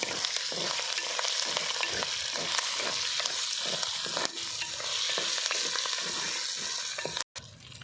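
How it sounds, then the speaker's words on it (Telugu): Curry leaves fry and crackle in hot oil with cumin seeds as they are stirred, a loud, steady sizzle with rhythmic scraping strokes throughout, briefly cutting out near the end. "రెండు మూడు కర్పాక రెబ్బలు వేసుకుందామండి నేను కలుపుకుందాం మంచిగా"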